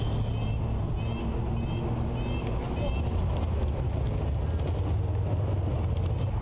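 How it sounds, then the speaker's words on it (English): Steady wind roaring across the microphone outdoors on a disc golf course, blowing through bushes, a constant broad rush with faint distant bird chirps in the background. "You see the wind blowing in the bushes there."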